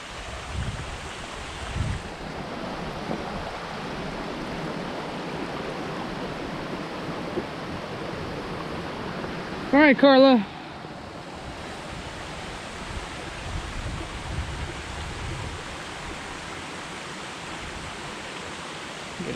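Stream water flows steadily along a Maryland stretch of the Appalachian Trail, a constant rushing wash with wind buffeting; a short voice cuts in briefly near the middle.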